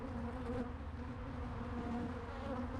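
Honey bees buzzing around an open hive during a hive check, a steady, dense, close drone with no talk.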